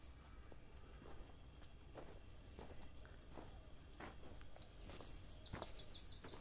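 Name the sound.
birds chirping outdoors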